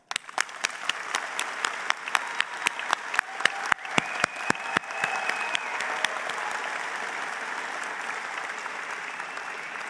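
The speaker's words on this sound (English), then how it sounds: "let's take a moment to acknowledge our grads with a round of applause" A convocation audience gives graduates a round of applause in a large hall. The clapping is broad and sustained, with a few sharp, distinct claps standing out early before it settles into an even wash.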